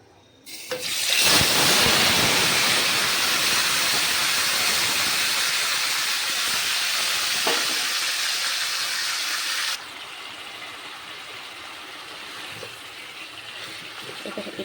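Mutton dropped into a hot pan after frying potatoes sets off a sudden loud hissing sizzle that holds steady for several seconds, then eases to a softer, quieter simmering fry.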